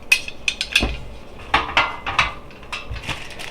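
A thick, heavy grilling tray from a Gourmia FoodStation being handled, with a string of close hard clanks, knocks and scrapes against other metal parts.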